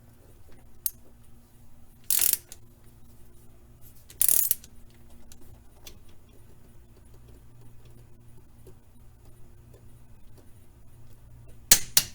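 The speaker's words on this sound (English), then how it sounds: "got my torque wrench here. I'm going to torque them all down." Torque wrench tightening axle bolts on a Jeep Cherokee, with a few short bursts of ratcheting clicks spaced a couple of seconds apart over a quiet garage background, plus a final click cluster at the end.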